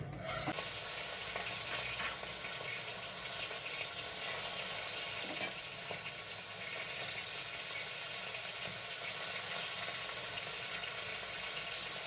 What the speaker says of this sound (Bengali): কড়াইতে সাদা তেল গরম করে নিয়ে আমি প্রথমে মাছগুলোকে ভেজে নেব।